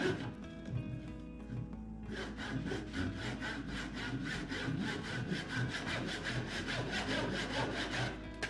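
Hand saw cutting through wood for a carved spoon, starting with a few irregular strokes and then settling into a steady, fast back-and-forth rasp, close and fairly quiet, with no talking.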